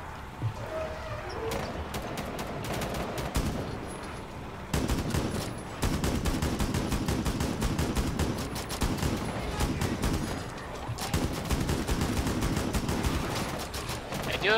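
Dense video game gunfire in a zombie-outbreak pandemic mode, rapid bursts and sustained automatic fire, loud and near, with brief lulls and a talking voice underneath at times.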